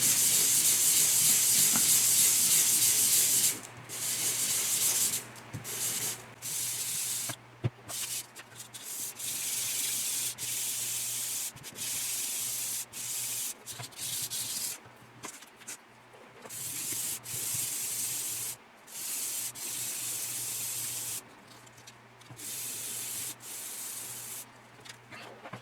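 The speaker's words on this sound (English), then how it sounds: "I just came across with a sheet of 400 grit sandpaper and just moved it around like so" A sheet of 400 grit sandpaper is rubbed across the thin internal frame parts of a 1/32 scale HpH Models PBY Catalina kit. The close, hissing scratches come in repeated back-and-forth bursts separated by short pauses.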